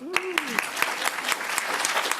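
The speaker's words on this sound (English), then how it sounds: "let's give a round of applause to the very hardworking tech team" Brief burst of audience clapping and applause, fairly close, with a voice briefly heard at the start.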